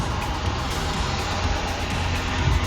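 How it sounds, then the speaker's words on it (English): A rally car drives past on a street, heard as a continuous loud road rumble with mixed engine and traffic noise and a brief swell near the end. "The white one here is a rally car."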